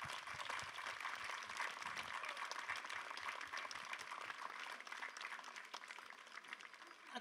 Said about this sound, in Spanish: denle un fuerte aplauso a mi hija.